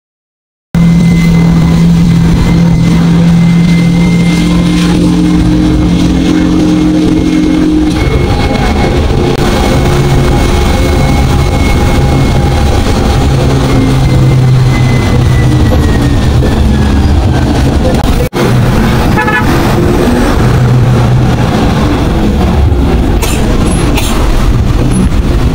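Ena Mercedes-Benz coach on the road from Dhaka toward Khulna via Gopalganj, heard from inside as a loud continuous engine and road rumble with low drones and occasional clunks, no talk.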